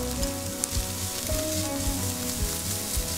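Seafood ingredients are lightly stir-fried in a pan with a little salt, giving a steady soft sizzle with faint stirring scrapes, close and quiet, and no voice.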